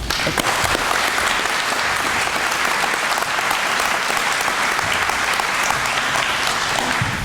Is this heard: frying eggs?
no